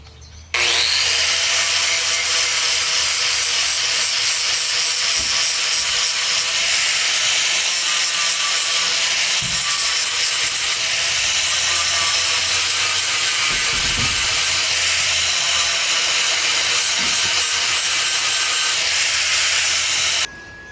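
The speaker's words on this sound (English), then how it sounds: "We put little aluminum pieces, and so he's got to weld those" Steady, loud hiss of welding on small aluminum pieces being attached to the outside of a camper van with fiberglass panels, running continuously for about twenty seconds with a few faint knocks underneath.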